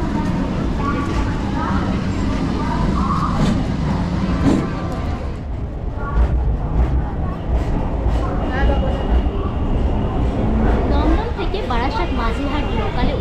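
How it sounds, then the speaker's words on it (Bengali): A Barasat–Majerhat local train pulls out of platform 5 at Dum Dum station in Kolkata, its rumble and rattling clatter continuous and close, mixed with a busy murmur of voices and station noise. "ট্রেন ছেড়ে দিয়েছে"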